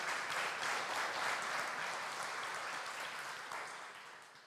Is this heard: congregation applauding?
yes